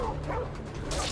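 A dog in the video game Remnant gives a quick burst of yipping barks and whimpers mixed with game sound effects, close and loud, with a voice speaking alongside.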